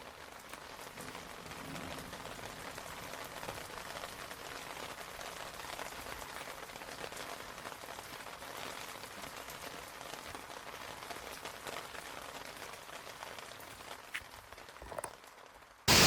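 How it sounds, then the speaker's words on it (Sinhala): Heavy rain pours down in a steady, dense hiss of countless drops hitting surfaces, constant throughout with a sharp knock at the very end. "මාර වැස්සක් තියෙන්නේ"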